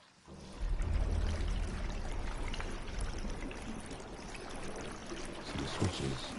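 Water rushing in a dungeon in the video game Conan Exiles after switches are triggered, a steady loud pouring and splashing stream that starts abruptly and runs on continuously.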